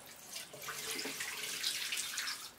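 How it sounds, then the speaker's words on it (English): Water is poured out into a sink while color film is being developed at home: a steady splashing gush that runs for a couple of seconds, then tapers off at the end. "Pour the water out."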